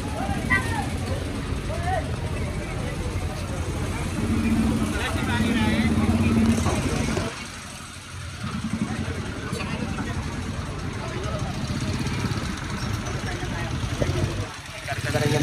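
Motorcycles, NMAX scooters and motorcycle tricycles pass along a busy street in Tondo, a steady close engine drone with one louder pass before a brief dip, as someone talks over the traffic.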